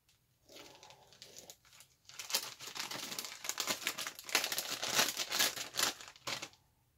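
Plastic bag holding a 1/72 scale Airfix Hawker Tempest V model kit's clear glazing parts crinkles and rustles as it is handled and opened, close and fairly continuous in bursts for several seconds.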